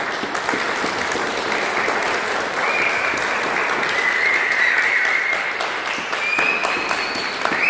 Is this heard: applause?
yes